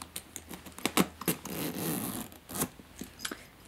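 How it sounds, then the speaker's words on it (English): Small Givenchy Antigona handbag unzipped in a run of short, raspy zipper pulls and scrapes, closely miked, with brief pauses between strokes and a longer drawn-out stretch in the middle. "if we open the zipper,"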